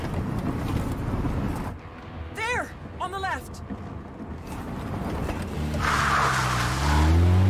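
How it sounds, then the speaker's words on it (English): A car races fast in the video game As Dusk Falls, its engine a loud roaring rush with wind noise and a couple of rising whines, growing heavier toward the end while voices talk over it. "Step on it, Jay."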